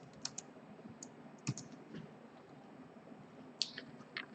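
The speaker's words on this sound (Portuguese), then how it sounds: "estou aqui no meu navegador, vou digitar Google" Keys clatter on a computer keyboard as someone types into a web browser, a few scattered quiet taps and clusters of clicks over a low room hum, with no talking.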